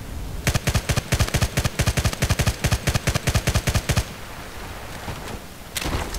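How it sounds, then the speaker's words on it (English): Bursts of MG36 machine-gun fire at medium range in the video game Battlefield Play4Free, about two dozen sharp shots in short tap-fired groups, then quiet with a brief later burst. "So now we're going to move on to medium range tap firing to see how that works out."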